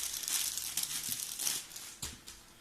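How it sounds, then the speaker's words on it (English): A plastic bag crinkles and rustles up close as small rubber keyboard feet are pulled out of it, a few sharper crackles standing out in a short burst of handling. "I'm going to get these out of the bag"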